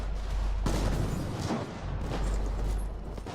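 Smart pistol fire from the Titanfall beta in an Attrition match on Angel City, a dense stretch of rapid game gunshots and booming battle noise running continuously and loudly with no talk.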